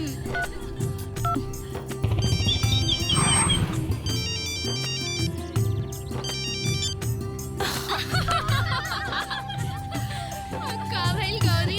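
Mobile phone ringtone playing a looping electronic melody with tonal beeps, loud and continuous, with faint voices and laughter beneath it.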